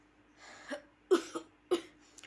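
A few short, hoarse coughs close by, spaced apart with quiet breathing between them.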